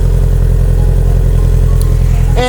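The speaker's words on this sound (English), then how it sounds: "Alright, so the exhaust is replaced." A Subaru Impreza WRX STi idling through its HKS aftermarket exhaust, a steady, low, loud burble that holds evenly throughout with no revving.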